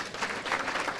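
An audience at a political party chapter launch event applauds, a dense, continuous round of clapping from many people, moderately loud and steady throughout the brief moment.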